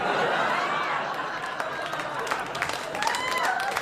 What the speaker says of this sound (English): Yeah, clap now.